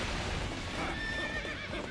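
A horse whinnying loudly in a video game, a single strained neigh filling the short moment up close, with faint hoof clatter beneath and no talk.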